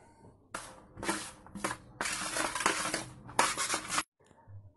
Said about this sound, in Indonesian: Kita aduk-aduk sampai rata.